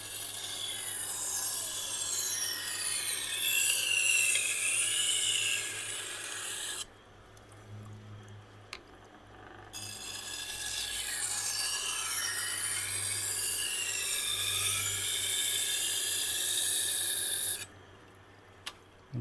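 Repeated abrasive strokes of an 80 grit, resin bonded diamond sharpening plate, heard as long rasping passes that rise and fall, with two short pauses between bursts and no voice.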